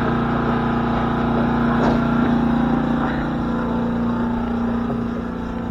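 A steady diesel engine drones on with a low, even hum and faint rattling, running continuously without pause.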